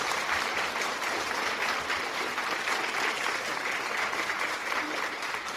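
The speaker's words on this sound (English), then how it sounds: "I got to put a clap on that because I like the way you said that" Applause from a panel discussion audience, a dense, steady wash of clapping that holds evenly throughout at moderate loudness.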